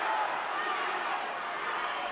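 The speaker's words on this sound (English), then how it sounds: "Crowd coming alive" Crowd at a live kickboxing fight, a steady wash of cheering and shouting from a large audience that holds at an even level throughout.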